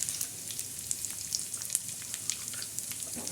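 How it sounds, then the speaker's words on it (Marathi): Onions fry in a pan for stuffed bitter gourd, giving a steady, soft sizzle dotted with small crackles and pops throughout, with no one talking. "कांदा आता छान असा भाजून जाईल"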